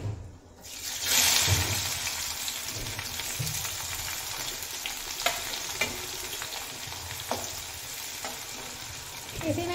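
Sliced onion drops into hot oil with panch phoron and bursts into a loud sizzle, then settles into a steady, close frying crackle with occasional stirring clicks in the pan.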